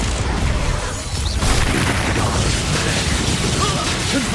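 Expulso explosion spell blasts from the Hogwarts Legacy video game, a loud continuous barrage of booming, cracking bursts and clattering impacts layered through the whole stretch with no pause.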